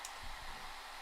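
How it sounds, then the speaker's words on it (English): A blow dryer runs close by with a steady, loud, unbroken whoosh of air and motor noise from start to finish, with no voices. "to overpower the blow dryer's noise"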